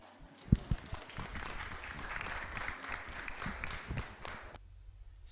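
An audience at a board of directors' quarterly meeting gives a brief round of applause, many hands clapping steadily for a few seconds before it stops abruptly.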